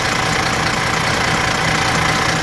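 A car engine idles after a fresh oil change with a steady, moderately loud, close rumble and an even knock-like beat throughout, and no one speaks.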